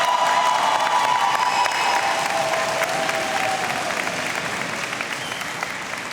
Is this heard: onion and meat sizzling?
no